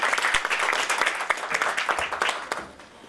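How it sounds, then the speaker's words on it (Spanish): Conference audience applause, a burst of clapping with individual sharp claps audible in the crowd, fading out toward the end. "el aplauso para él"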